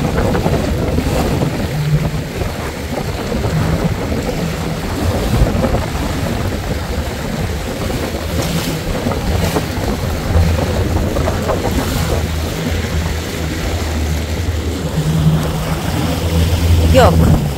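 A jet ski engine runs on open sea off Australia, a steady low motor drone mixed with wind buffeting and water noise throughout, while people talk over it.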